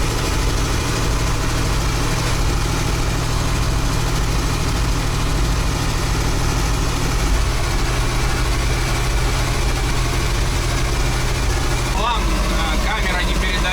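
A Magirus-Deutz 4x4 former fire truck, driven on the road, gives off a loud, steady low engine drone with a rattling mechanical roar that fills the whole stretch.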